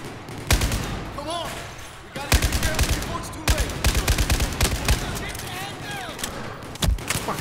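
Enemies open fire in the Battlefield 4 single-player campaign, loud bursts of machine-gun fire in sharp clustered volleys with brief gaps, close and punchy, while a voice talks in between.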